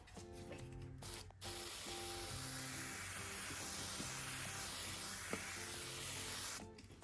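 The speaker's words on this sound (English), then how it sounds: "give them a nice spray of water." A spray bottle mists water over microgreen seeds pressed into soil, a continuous close hiss lasting several seconds over faint background music, bracketed by short pauses.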